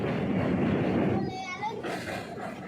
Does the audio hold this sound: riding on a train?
yes